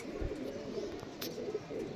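Two male Pakistani golden pigeons give soft, low coos close by, short throaty calls over faint background noise.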